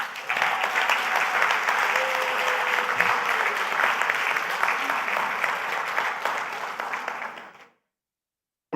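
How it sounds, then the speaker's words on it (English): Sustained applause from a conference audience at a cultural and creative industries event in Grenada, steady dense clapping for about seven seconds before stopping abruptly into silence. "Grenada and the people of Grenada need to be given a round of applause"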